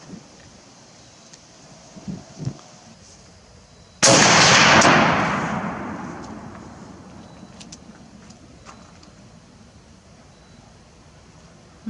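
A single loud M1 Garand rifle shot fired outdoors at a 200-yard target, a sharp crack with a long rolling echo that decays over several seconds, after a few faint small noises.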